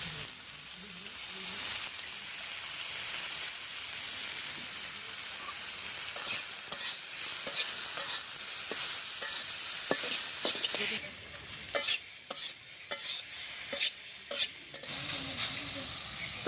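Leaf greens being stir-fried in mustard oil in a village kitchen, a steady loud sizzle with repeated scraping strokes of a stirring utensil, the strokes growing more distinct toward the end.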